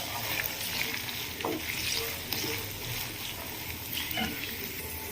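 Sliced onion and green chillies frying in a pan for a potato curry, a dense continuous sizzle with a few soft stirring scrapes throughout, no voices.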